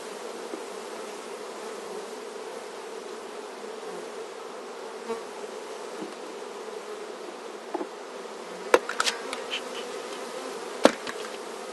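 Honeybees buzzing steadily around an open hive while a beekeeper works with a smoker, a continuous close drone with a few sharper passing buzzes and knocks near the end.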